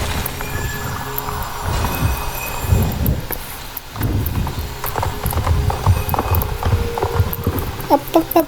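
A horse gallops across the ground in the game SSO, with steady rhythmic hoofbeats close and loud throughout, mixed with faint game effects and brief clinking toward the end.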